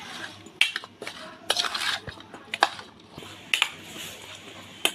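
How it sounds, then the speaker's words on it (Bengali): Metal spoon clinking and scraping in a bowl while masala guava is mixed with kasundi mustard sauce, a run of sharp irregular taps and stirs heard close and fairly quiet. "এবার পেয়ারা মাখার আসল উপকরণটা দিয়ে দেব, কাসুন্দি। খুব ভালো করে এবার মিক্স করে মেখে নেব।"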